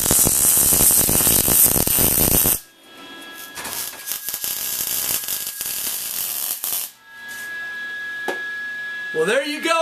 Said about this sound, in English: it's time to weld it up